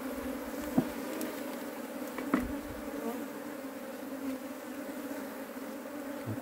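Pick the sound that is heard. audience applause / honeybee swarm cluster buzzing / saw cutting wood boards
honeybee swarm cluster buzzing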